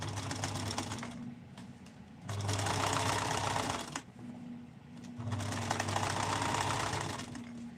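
Sewing machine stitching fabric scraps together for a bag, running in two long steady bursts of rapid mechanical chatter with a brief pause between them, close and fairly loud.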